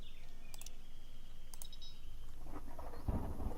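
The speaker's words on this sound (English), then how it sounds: "Oh, cool, thunderstorm." A thunderstorm in Stranded: Alien Dawn: steady rain hiss carries a few faint chirps. Near the end, a deep, heavy rumble of thunder builds and swells.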